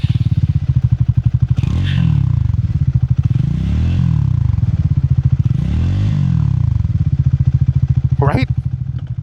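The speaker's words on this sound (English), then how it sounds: "Listen to this thing when I start it up." A Triumph Scrambler 400 XC single-cylinder motorcycle idles loud and close with a steady, thumping pulse, swelling in a few slow revs before a brief sharp chirp near the end.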